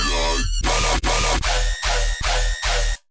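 Electronic dance-music bass, mixed without its high-end EQ cut, thumps in a steady run of loud, dense, full-range hits with short gaps, cutting off abruptly at the end.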